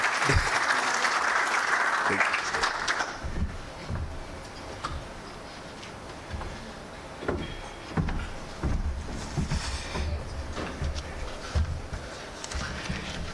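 Audience at a memorial lecture event applauding a speaker, with a burst of clapping for the first few seconds before it fades to scattered claps, light knocks and low room noise.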